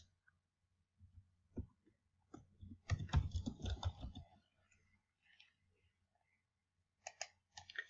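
Fingers type on a computer keyboard while a table caption is entered in a document: soft scattered key clicks, then a dense burst of tapping, pauses, and a short final flurry, quiet and close.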